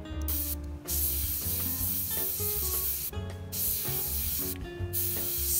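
Airbrush spraying paint onto a 15mm Jagdpanther tank model, a steady close hiss in repeated bursts separated by short pauses.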